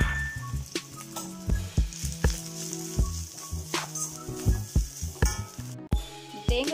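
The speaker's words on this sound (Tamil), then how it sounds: "தேங்காய் கொஞ்சம் ப்ரௌன் கலர் வரைக்கும் வரட்டும், அது வரைக்கும் நம்ம கிண்டி கொடுக்கலாம்" Grated coconut roasts in a pan while a spoon stirs it, repeated scraping and knocking strokes in an uneven rhythm over a faint sizzle, close and moderately loud.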